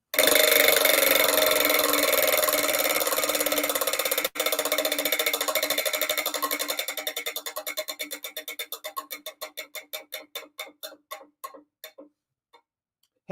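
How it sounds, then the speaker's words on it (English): A big prize wheel spins during a lottery show. A rapid blur of clicks gradually slows into distinct, widening ticks until it stops after about twelve seconds, with no talk. "Let's see what you win off the big wheel."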